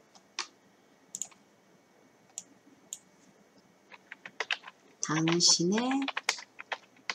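Computer keyboard keys click in short, scattered taps while text is edited in a photo editor, close and crisp, with someone speaking Korean in the second half.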